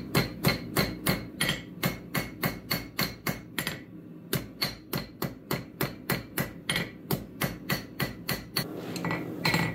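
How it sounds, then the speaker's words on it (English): Steady, rhythmic hammer blows ring out close and loud as the steel tip of a crowbar is rounded while forging a knife blade, with a brief pause near the four-second mark before the strikes resume. "So I'll start using these rounding type of hammer strokes"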